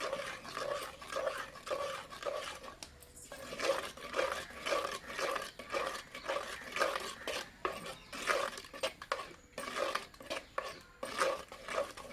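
A spoon works thick ragi kali in a pot, giving steady scraping and knocking strokes in an uneven rhythm, close and fairly quiet, with no voices over it.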